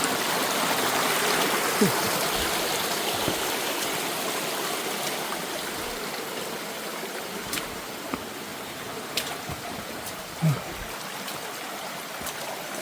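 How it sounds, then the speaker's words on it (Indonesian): A clear forest river streams past nearby in a steady, full rushing flow, with a few small splashes and clicks over the continuous water noise. "Ini ada sungai."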